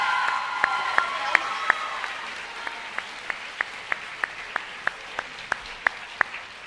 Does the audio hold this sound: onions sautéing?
no